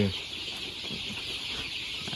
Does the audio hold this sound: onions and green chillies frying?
no